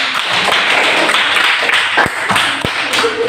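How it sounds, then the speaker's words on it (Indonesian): A class of students welcomes a presenting group with applause in an Indonesian classroom, a thick, continuous patter of many hands clapping, fairly loud and close, with a couple of sharper knocks near the end. "kita sambut kelompok 2 dengan tepuk tangan."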